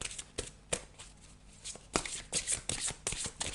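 A deck of tarot cards is shuffled up close, a quick run of crisp riffling flutters and soft slaps in an uneven rhythm, with no talking.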